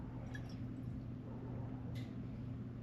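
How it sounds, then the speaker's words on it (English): Water is scooped out of a home fish aquarium, with a few soft drips and wet squishing sounds over a steady low hum of equipment, quiet and close. "I'm just going to scoop some of this water out."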